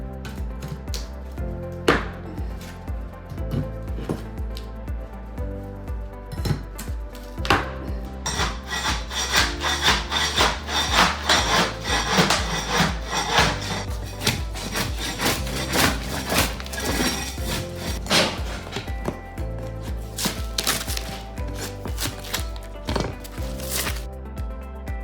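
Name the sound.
scraping old linoleum off original hardwood kitchen floor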